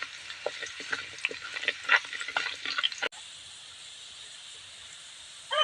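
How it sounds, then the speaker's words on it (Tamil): Garlic fries in oil with a soft, close sizzle, broken at first by light stirring scrapes and clicks, then settling into an even, quiet hiss. "பூண்டு நல்லா வணக்கலாம் எண்ணெயில்."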